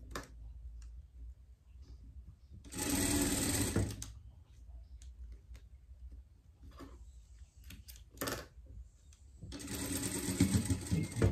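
A domestic sewing machine stitches a French seam on girls' panties. It runs in three rapid clattering bursts with quiet pauses between them, heard close up with no talking.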